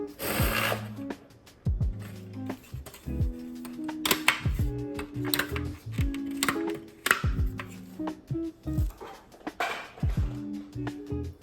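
A Bernina 38 sewing machine being threaded gives close, sharp clicks, ratcheting ticks and small mechanical knocks at irregular intervals, with no one speaking.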